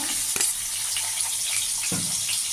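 Onion fries in hot oil for a katla fish curry, a continuous close sizzle and hiss with a couple of brief clatters as it is stirred.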